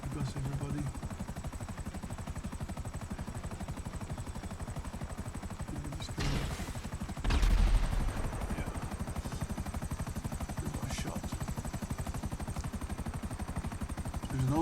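A helicopter flies steadily in a video game, its rotor chop a constant loud drone with a couple of brief louder bursts partway through.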